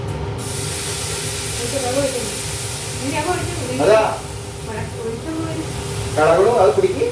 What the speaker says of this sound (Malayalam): പിന്നെ അരി വറുത്തോണ്ടിരിക്കുകയാണ്.